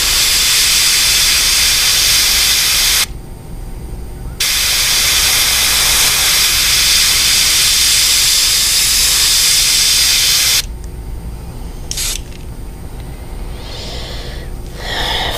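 An airbrush sprays paint onto a fishing lure in a steady, loud, close hiss that runs in long bursts with brief pauses between passes, then shorter spurts near the end.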